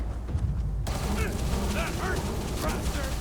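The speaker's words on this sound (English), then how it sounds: "Stop it! Stop shooting him!" Rapid bursts of gunfire from the video game Starfield, in the Shattered Space expansion, crackling steadily across the clip with a voice talking over the shots.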